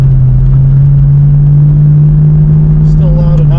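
An S197 Mustang with aftermarket axle-back mufflers cruises along, a steady low drone holding under the cabin noise, with a brief rise in pitch near the end.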